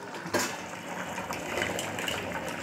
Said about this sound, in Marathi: आता आपण यात चिंचेचं पाणी टाकूया।